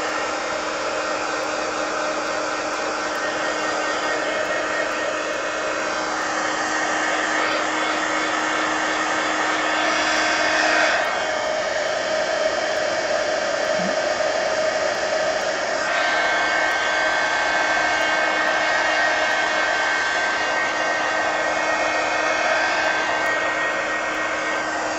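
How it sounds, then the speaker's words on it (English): A heat gun blows continuously at close range while drying paint on a mixed-media book page, a loud steady roaring whoosh with slight shifts in pitch as it moves, and no speech. "I think I'm going to hit it with the heat gun"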